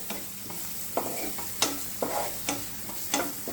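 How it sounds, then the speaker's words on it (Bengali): Chimichurri ingredients with coriander being stirred in a pan, a spoon scraping and clacking in about six distinct strokes roughly every half second over a faint background sizzle, close and alone. "এবার সব কিছুকে একসাথে একটুখানি মিশিয়ে নেবো"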